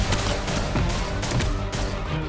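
Gunfire from a John Wick action film scene comes as rapid, loud bursts of shots over a dense, rumbling score, with sharp repeated cracks throughout.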